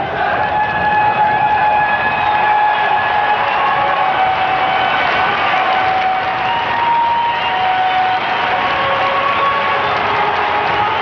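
A big football crowd at an Oldham Athletic match roars in a continuous loud wash of cheering, shouting and applause, with whistles and voices rising and falling throughout.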